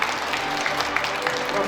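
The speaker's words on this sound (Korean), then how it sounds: "오늘 특강을 해주시는 정호성 시인님께 다시 한번 뜨거운 서울의 박수 부탁드립니다." Brief burst of audience applause for a poet's special lecture at a morning breakfast lecture event, a short, full wash of clapping from a seated crowd.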